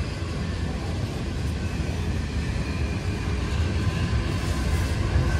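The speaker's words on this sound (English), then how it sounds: "I love hearing a DPU working hard." A freight train's DPU locomotive works hard under load, producing a steady, loud low rumble that holds at an even level throughout with no voices.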